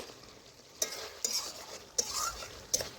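Mutton being stirred and sautéed in a pan as its liquid cooks off: a low sizzle under repeated scraping strokes of a spoon, with several sharp clacks against the pan at regular intervals.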